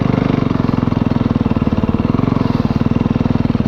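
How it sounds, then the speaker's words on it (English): Snow bike engine droning loud and close while riding across snow, a steady pulsing motorcycle-like throb with a constant rapid rhythm and no pauses. "So much more incredibly easy to ride a snow bike across this stuff."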